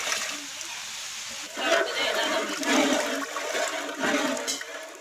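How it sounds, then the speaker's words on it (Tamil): Water poured into a pot while chicken biryani is being prepared, a steady rushing splash lasting several seconds with surges of louder pouring, fairly close and heard without talk. "தண்ணி வச்சிக்கலாம் அளந்து"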